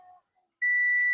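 An electrical test light gives a single sharp, steady electronic beep when its probe leads touch, preceded by a brief faint tone and silence.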